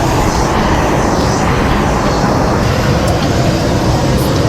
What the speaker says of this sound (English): these are the small local airplanes for the local flights